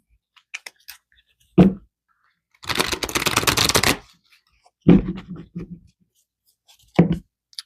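Tarot cards shuffled and handled in bursts: quick riffles and taps, a dense sustained shuffle in the middle, then a few separate card slaps, close and fairly loud, with no talking.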